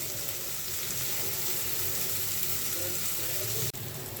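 Onion frying in oil in a pan while a gourd leaf mash is cooked, a steady continuous sizzle at moderate loudness with a brief clatter near the end.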